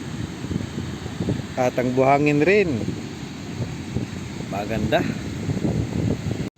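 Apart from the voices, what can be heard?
strong wind at the beach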